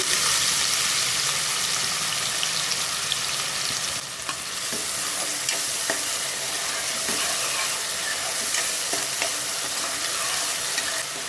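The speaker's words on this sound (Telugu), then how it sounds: "ఆయిల్ హీట్ అయ్యాక దీనిలోకి మనం ముందుగా చాప్ చేసి పెట్టుకున్న ఉల్లిపాయలు వేసుకోవాలి" Two large chopped onions frying in hot peanut oil, a loud, dense, continuous sizzle close up, with occasional soft knocks and scrapes of stirring running through it.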